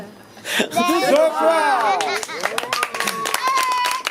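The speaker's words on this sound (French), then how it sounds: "Ça s'applaudit." Clapping from the audience at a slam poetry night in Vence, sharp hand claps mixed with loud cheering and excited voices, busy and close throughout.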